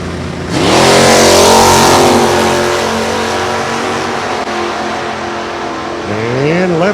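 A 1970 GTO and a 1973 Mustang launch side by side down a drag strip, engines roaring loud and close through a sustained full-throttle run, then fading before a second revving engine rises at the end; a voice talks over it.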